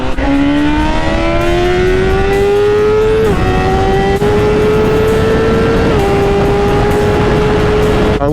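A BMW S1000RR sportbike engine drones loud and close on a Sunday twisty group ride with about a dozen bikes, holding a steady high pitch that climbs through gear shifts under constant wind rush.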